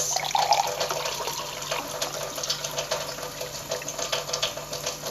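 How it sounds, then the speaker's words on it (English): Water runs and splashes steadily into a glass for several seconds, a close trickling pour with bubbly texture and no voices. "I'm going to pour my water into my glass"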